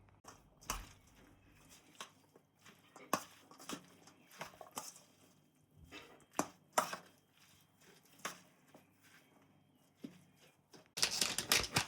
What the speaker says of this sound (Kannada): ಇದನ್ನು ಚೆನ್ನಾಗಿ ಮಿಕ್ಸ್ ಮಾಡ್ಕೋತೀನಿ.